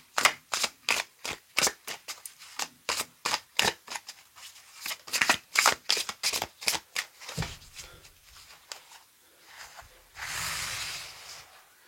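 Tarot cards being shuffled before a nine-card spread, a steady series of crisp riffling bursts close by, each a short papery flutter, ending in a longer softer slide of cards.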